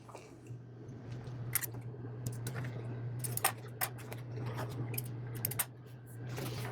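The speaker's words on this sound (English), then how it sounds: "let's trim those threads" Small scissors snipping loose threads on a pants pocket patch, a string of crisp close clicks and snips at irregular intervals over a steady low hum.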